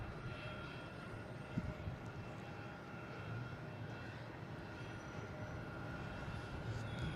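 An Aer Lingus airliner flies overhead near the tower at Boston Logan, a faint, steady distant engine drone with thin tonal hum beneath, unbroken and without talk.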